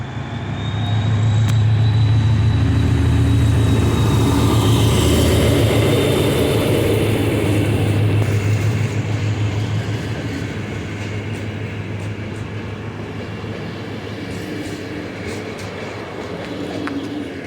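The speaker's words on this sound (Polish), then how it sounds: "Cały skład rusza." A train set, the TurKol Mebelek, pulls away from the station at Kobylnica in a loud, steady rumble of wheels and rolling cars with a faint high whine. The sound stays close and slowly eases off as it departs.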